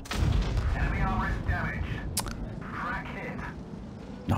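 Heavy tank cannon fire in the mobile game World of Tanks Blitz, several booming shots spaced through the stretch, with a commentator talking over the battle sounds.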